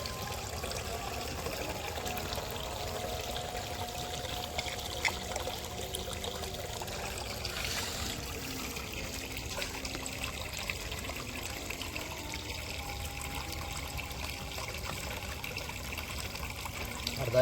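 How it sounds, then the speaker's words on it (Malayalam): Coconut milk trickling steadily over fried karimeen (pearl spot fish) in a pan, a soft continuous liquid pour with light dribbling, fairly quiet and without talk. "നാളികേരത്തിൻ്റെ പാല് മേലെ ഇങ്ങനെ കുറച്ച് ഒഴിച്ച് കൊടുക്കുക."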